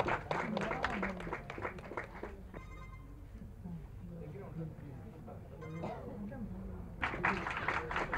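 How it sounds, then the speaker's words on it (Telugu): Applause from an audience at a platinum disc music function, steady clapping that fades under an announcer talking over a loudspeaker, then swells again loudly near the end. "Give her a big clap please."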